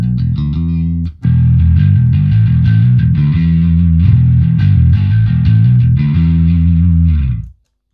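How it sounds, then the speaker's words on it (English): A bass guitar plays through a Blackstar Unity bass amp on its distortion setting, a loud, gritty, sustained riff with a brief break near the start, then it rings out and fades to silence at the end. "Let's go for distortion, which is our next option."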